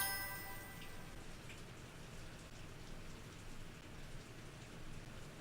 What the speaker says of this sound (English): it sounds like it's raining outside